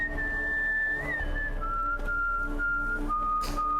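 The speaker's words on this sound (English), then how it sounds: "Horrible whistling." Whistling in The Witcher 3: Wild Hunt, a steady, close, sustained tone that steps down in pitch over several seconds, heard alone over a low background hum.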